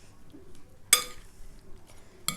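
Short clinking and scraping of utensils stirring a salad with onion and vegetable oil in a bowl, with a sharp rattle partway through and another brief clatter at the end, otherwise quiet.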